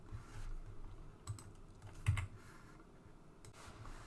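Computer keyboard typing during a programming lecture, with scattered soft key clicks and a few sharper taps, close and fairly quiet under low room hum, with no talking.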